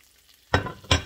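Butter dropped into a hot cast iron pan holding chicken drippings for chicken marsala, two sharp close sizzling bursts in a row with no talking.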